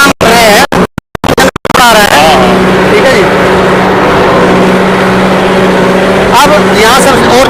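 A tractor engine labors while pulling an 11-tine tiller, a loud steady drone with rough crackling bursts at the start and a brief spoken voice early on.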